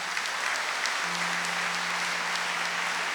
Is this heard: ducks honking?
no